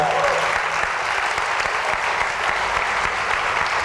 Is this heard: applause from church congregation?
yes